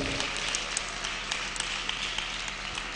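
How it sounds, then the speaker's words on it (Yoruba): Audience applause at a church adult harvest service, a steady dense patter of many hands clapping throughout, moderately loud and continuous with no clear talk over it. "Ẹ jẹ́ ká pàtẹ́wọ́ sí i fún bàbá wa."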